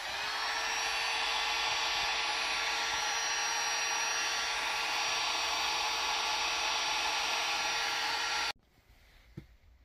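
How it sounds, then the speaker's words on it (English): Loud, steady blowing roar of a heat gun running close by on plastic for several seconds, then cutting off abruptly into near quiet. "we've got a heat gun"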